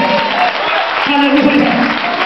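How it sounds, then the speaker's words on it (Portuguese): A church congregation breaking into applause, dense clapping throughout, with voices calling out over it. "Aplauda o Senhor se você crê."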